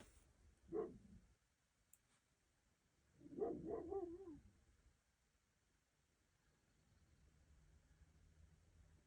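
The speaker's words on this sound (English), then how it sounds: "I don't know if you could hear the dog outside" A dog barks outside, distant and faint, in two short bursts a few seconds apart, the second with several quick barks, followed by quiet room hiss.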